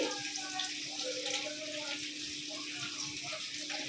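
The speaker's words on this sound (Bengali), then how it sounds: "এই যে পানিটা দিয়ে দিচ্ছি" Water is poured into a pan of arum root pieces seasoned with turmeric, chili and coriander on a wood-fired stove, giving a steady, moderately loud rushing hiss that runs throughout.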